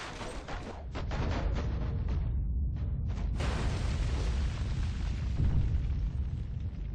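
A marble column collapses in Tomb Raider Anniversary, a loud crashing rumble of breaking stone with a burst of debris, a brief lull, then a sustained heavy roar of falling rubble.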